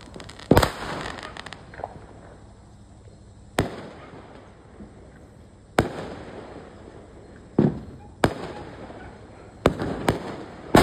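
Diwali firecrackers go off around a village in the morning, some set off by hand: about seven sharp, loud bangs at irregular intervals, each with a short crackling tail over a quiet background.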